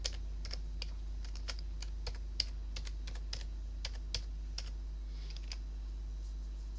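A password typed on a computer keyboard during a LibreOffice install on Kali Linux, a run of quiet, close key clicks in an irregular rhythm over a low steady hum.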